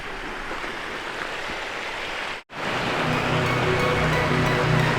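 A mountain waterfall in Idaho roars as a dense, continuous rush of falling water, loud and close, with a brief cut midway before the steady wash resumes.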